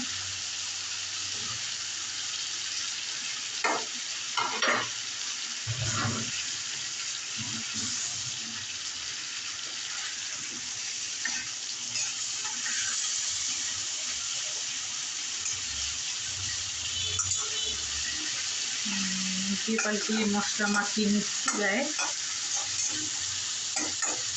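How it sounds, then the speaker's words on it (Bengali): Fried sarputi fish goes into simmering masala in a pan, with a steady sizzle running throughout and intermittent stirring, scraping and light clatter close by. "এখন আমি মাছগুলো দিয়ে দিব ভেজে রাখা মাছগুলো"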